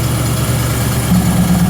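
A rebuilt 351 Ford small block engine powering an air compressor runs steadily at idle while it warms up, a continuous low rumble with even vibration, close and unbroken, no voices.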